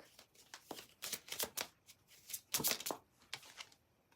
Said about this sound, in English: Let me just grab one more and then I'll cut the deck.